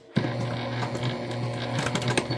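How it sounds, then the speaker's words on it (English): A Juki sewing machine stitches a thick, multi-layer backpack seam, a steady close whirring hum with rhythmic needle ticks running continuously. "we're sewing this at the full seam allowance given in the pattern"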